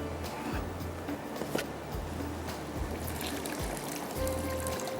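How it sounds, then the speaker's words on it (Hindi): Water poured into a pot of chickpea pulao on the stove, a steady trickling and splashing wash at moderate loudness with low kitchen rumble beneath and no talking. "यहाँ पर अब इसमें जाएगा थोड़ा पानी"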